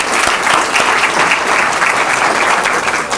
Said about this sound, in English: so we can give them a round of applause as well